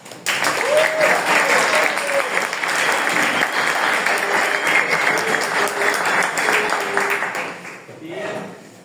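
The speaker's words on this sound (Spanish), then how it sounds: "Aplausos a los cosas." An audience in an advanced programming class claps, dense applause sustained for several seconds and then tapering off, with a few voices faintly audible over the clapping near the end.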